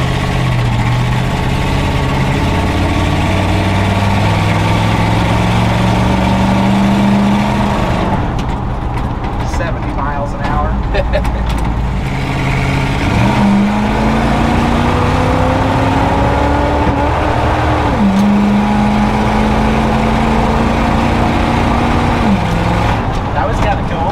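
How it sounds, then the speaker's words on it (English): Chevy engine revving up and power shifting out of first gear, a loud steady drone with rising pitch sweeps that drop and climb again at each shift, with people talking over it. "Made enough RPM to power shift out of first gear."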